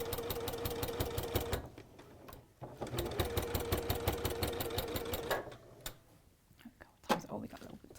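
A sewing machine stitches a quilt in a rapid, steady mechanical rhythm, running in two long bursts with a short pause, then stopping, close and clear, with a voice heard alongside.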